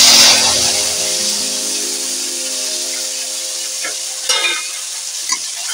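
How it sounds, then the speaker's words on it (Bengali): Ground spices with turmeric, chilli powder, cumin and bay leaf fry and get stirred in oil in a pan for a fish curry with ridge gourd, taro and plantain, a loud steady sizzle with a few spatula scrapes near the end. "মশলা এইভাবে ভেজে নেবো।"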